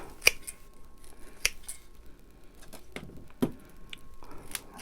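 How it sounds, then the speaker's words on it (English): Several sharp, separate snips from shears cutting into a tight plant root ball, each one crisp and close, with quiet gaps between them. "So, this root ball is really tight. So I'm gonna cut some more off."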